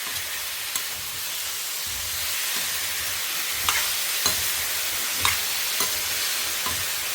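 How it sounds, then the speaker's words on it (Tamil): Radish thogayal mixture sautéing in a pan, a steady broad sizzle running throughout with occasional sharp stirring scrapes and ticks, close and alone without talk. "இது நல்லா பச்சை வாசனை போகிற வரைக்கும் வதங்கட்டும்"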